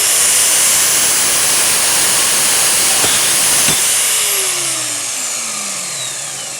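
A portable Vevor band saw running at speed setting 5 while cutting an aluminium profile, giving a loud, steady, broadband hiss and whine that fades slightly toward the end, close up and without speech.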